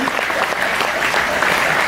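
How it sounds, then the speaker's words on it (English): Dense, steady applause fills the room from an audience at a Chicago blues event, a loud, even wash of many hands clapping for about two seconds. "So let's give them another nice round of applause."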